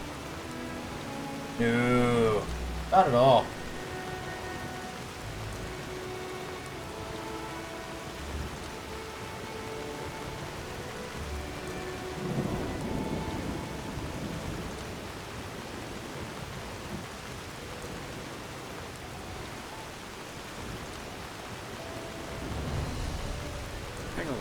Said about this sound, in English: We're not getting soaked to the bone out here in the rain.